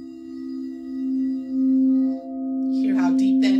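A deep, sustained low tone for the root chakra hums steadily with faint overtones, and brief rustling sounds enter near the end.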